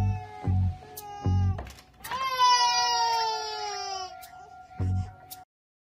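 Baby crying in a hotel suite in a French-dubbed film scene: a sustained, wavering wail with rising and falling pitch, broken by loud thumping sounds before and after.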